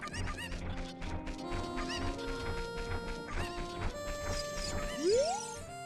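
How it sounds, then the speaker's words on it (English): Cucco chicken clucks and squawks in The Legend of Zelda: Ocarina of Time, heard as busy game audio with bird calls layered over music, ending in a rising squawk near the end. "I need to use the chicken to get the chicken."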